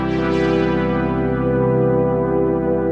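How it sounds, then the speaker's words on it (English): A vintage-style Haze synth brass preset called Serious Brass plays a sustained, loud chord with a slightly wobbly, drifting pitch and a bright attack, alone. "This one's called Serious Brass,"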